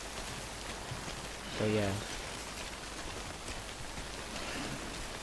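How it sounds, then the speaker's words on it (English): Steady rain, the timefall of the Death Stranding game, hisses softly and continuously in the background while someone speaks briefly over it. "I like rain, but only in this game it's fucked up."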